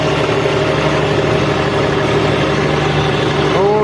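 A farm tractor's engine runs steadily at a near, even idle before the trip to the Amargarh grain market during wheat harvest, with a low, continuous drone and no talk.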